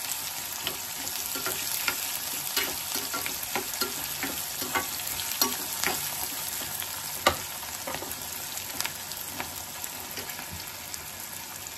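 Onion and tomato frying in a pan for an egg curry, with a constant close sizzle and repeated scraping and tapping as a utensil stirs, and no voices.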